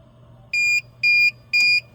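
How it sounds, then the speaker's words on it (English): A security keypad sounds three short, identical electronic beeps at an even pace as it switches into init mode during a master and slave role reversal. Each tone is bright and clear over a quiet background. "3 beeps. I'm now in the init mode."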